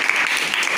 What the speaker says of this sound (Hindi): बहुत बढ़िया जवाब दिया, तालियां बजाएं